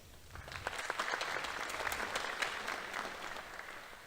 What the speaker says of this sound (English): Please join me in giving our CTE teachers another round of applause for all their hard work to get us here today.